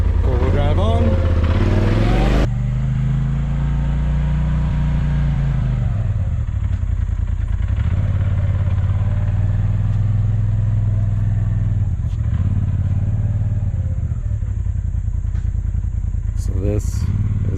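A Polaris off-road vehicle in four-wheel drive runs with a steady, loud engine drone that rises and falls as it climbs, with clattering near the end; someone talks briefly at the start.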